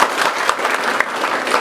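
High school students clap their hands together in a classroom, a brief, loud, dense burst of applause filling the room for under two seconds.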